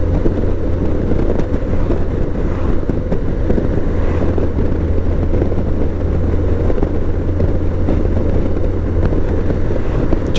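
A BMW fuel-injected motorcycle cruising in fifth gear, its engine giving a steady low drone buried under loud, constant wind rush from riding, with no speech.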